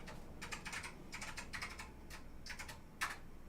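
Password typed on a computer keyboard during a desktop repair, a quiet, close run of quick key taps in short bursts with brief pauses and one sharper final keystroke.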